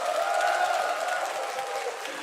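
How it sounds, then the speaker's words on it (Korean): Audience applause at a novel reading concert, a sustained wash of clapping from a crowd with a faint cheer or tonal hum riding over it, holding steady for the whole moment. "박수 소리가 너무 작은 것 같은데요?"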